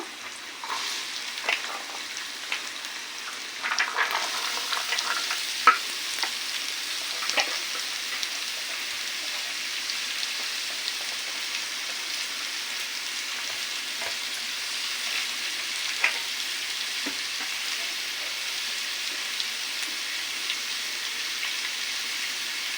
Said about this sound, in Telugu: ఆయిల్ హీట్ ఎక్కింది. ఇప్పుడు మనం కట్ చేసుకున్న క్యారెట్ ముక్కలన్నీ దీంట్లో వేసుకున్నాము.